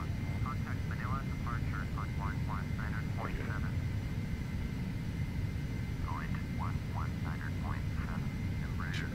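Airliner jet engines spool up in a flight simulator game as a steady, broad roar that holds through the whole stretch, with a person talking over it.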